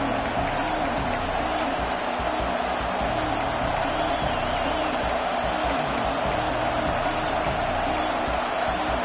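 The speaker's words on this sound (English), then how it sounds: "This place is roaring, and it's going to be so hard to operate under these conditions." A football stadium crowd in a Madden/NCAA video game roars steadily, a dense, constant wash of cheering that never lets up, with faint speech mixed beneath it.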